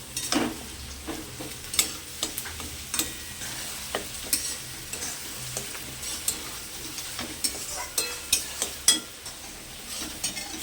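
Pointed gourd frying in a pan with potato, for stuffed potol dorma: a steady oil sizzle runs throughout, broken by repeated sharp clinks and scrapes of a utensil stirring against the pan, with no talking.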